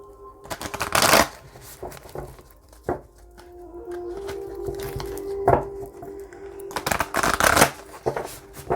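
A Moonology oracle card deck is shuffled in bursts, with crisp riffling flurries near the start and again toward the end, separated by softer handling and a low steady hum in a quiet room.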